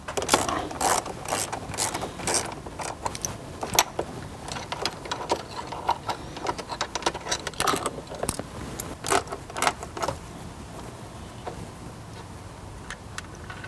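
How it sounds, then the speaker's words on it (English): A 10mm socket ratchet clicks rapidly in bursts while it backs out the grab handle bolts inside a Jeep Wrangler JL, close and busy, with pauses and a handful of clattering knocks between runs. "with your 10mm socket, remove the two bolts that hold the grab handle"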